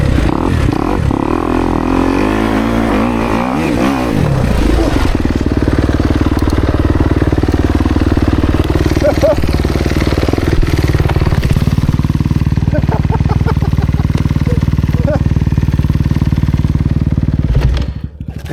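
A dirt bike engine labours up a steep hill climb, droning loud and steady for the whole stretch, its pitch shifting as the rider works the throttle, with people talking over it.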